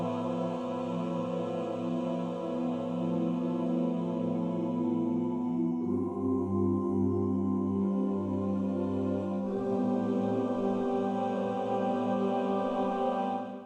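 Sustained synthetic choir chord with rich stacked harmonics, the vowel shifting from ah to oo as the tone changes color, continuous and steady without pauses.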